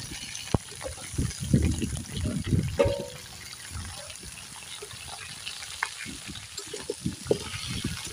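Drumstick stalks go into hot mustard oil in a wok with bursts of crackling sizzle, then a softer bubbling fry with scattered pops and stirring; no talk.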